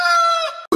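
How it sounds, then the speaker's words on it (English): A chicken gives one loud, close, drawn-out crowing call that lasts most of the moment, breaking off abruptly at the end. "Chicken versus alligator."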